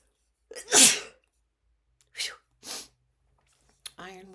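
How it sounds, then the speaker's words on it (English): A single loud, close sneeze bursts out, followed by a couple of short breathy sounds and then a voice starting to speak. "Oh, sneeze."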